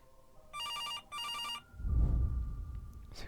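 An old-style telephone bell rings in a horror video game, two loud trilling bursts close together, followed by a low rumbling game ambience.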